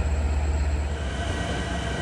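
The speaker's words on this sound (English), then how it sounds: "Here comes my train, I think." An LIRR commuter train pulls into Jamaica station at evening rush hour, giving a steady, moderately loud low rumble of rolling cars with no talk over it.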